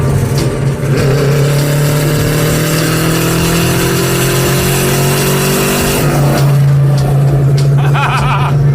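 A 1978 Chevy Monza Spyder cruises down a highway with the windows down, its loud engine droning steadily from inside the cabin with rising pitch as it pulls, then a brief shift and wind buffeting.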